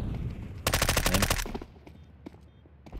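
Video game gunfire: a loud, rapid automatic burst lasting under a second, followed by a few scattered, fainter single shots.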